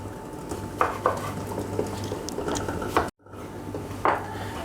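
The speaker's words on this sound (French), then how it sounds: "je vais passer à ma tomate que je vais couper en quartiers" A knife cutting a tomato into quarters on a board for a Greek salad, a few soft, close chopping taps and knocks spaced irregularly, with a brief silent gap partway through and no voices.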